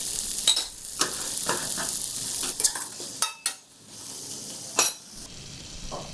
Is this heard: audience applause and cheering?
no